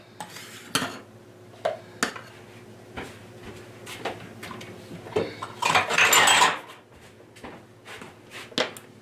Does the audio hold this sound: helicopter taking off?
no